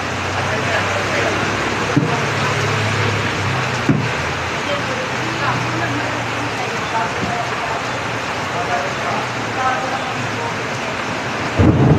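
Heavy rain pours steadily and loudly throughout, with a few low rumbles of thunder breaking through near the start and end, a dense continuous roar of downpour.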